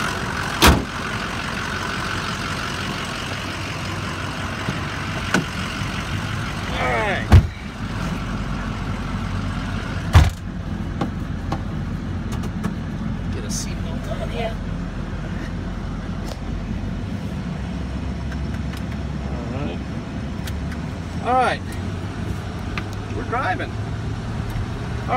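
A 2005 Ford F550 diesel truck drives along with a steady, low engine rumble and road noise throughout, a few brief knocks and faint voices in the background.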